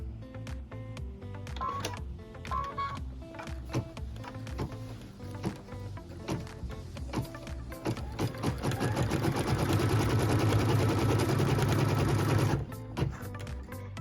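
A sewing machine stitches a cut line while piecing a quilt block, running in short bursts of rapid needle clatter at first, then a longer, louder steady run before stopping.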